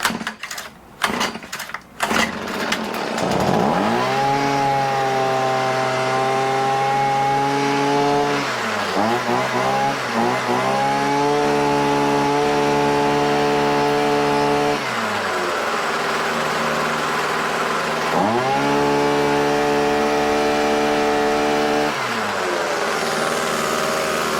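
A Hitachi small engine is yanked with a few rapid pull-start sputters, then catches and runs with a buzzing, steady drone while the throttle is held down; the pitch dips and recovers a couple of times.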